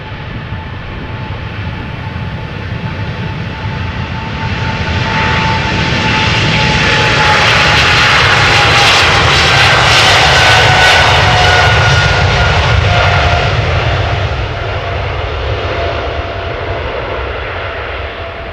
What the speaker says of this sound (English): It is a 777 going to Johannesburg, South Africa. 777-300ER, 10 years old.